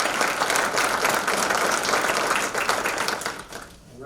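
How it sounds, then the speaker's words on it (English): Applause from an audience at a medical college all-college meeting for the admissions team, a dense, steady wash of clapping from a crowd that continues for several seconds before thinning out at the end. "I think we should all give them a round of applause."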